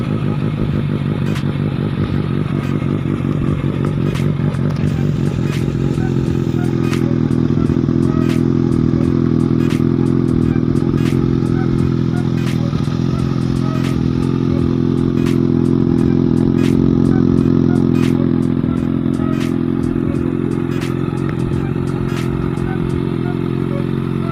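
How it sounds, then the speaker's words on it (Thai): A Kawasaki ZX6R motorcycle with an aftermarket exhaust idles with a loud, rumbling exhaust close up, swelling a few times as the throttle is blipped, with metallic ticking throughout. "เดี๋ยวฟังเสียงท่ออาคากระป๋องนะครับ"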